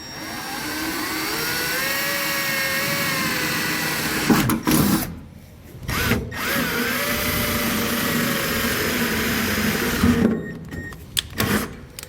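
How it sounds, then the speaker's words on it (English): A power drill whirs steadily at close range, drilling small holes in a pickup truck bed, its pitch rising and falling as it bites, with brief pauses and a couple of short bursts near the end. "we'll drill a small hole on each corner"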